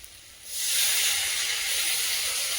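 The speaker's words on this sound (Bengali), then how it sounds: "এবার জল দিয়ে দেবো।" Water hits a hot pan of spiced, fried-down potatoes and bursts into a loud, sustained steamy hiss that rises sharply and holds steady, with no voices over it.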